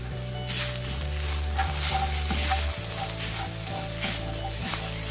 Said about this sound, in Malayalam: 1/2 ടേബിൾ സ്പൂൺ ഗരം മസാല പൊടിയും പാകത്തിനുള്ള ഉപ്പ് ഇട്ട് നന്നായിട്ടൊന്ന് ഇളക്കി കൊടുക്കാം